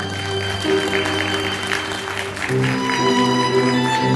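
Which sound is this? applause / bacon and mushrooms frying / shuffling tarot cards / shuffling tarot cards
applause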